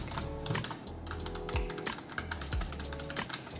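Keys clack on a computer keyboard as a username and password are entered, in close, irregular bursts of crisp taps with short pauses between them.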